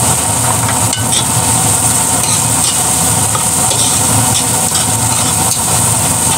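Minced garlic sizzling steadily in a pan while being stirred, a constant loud frying hiss with faint scraping and occasional knocks of the utensil.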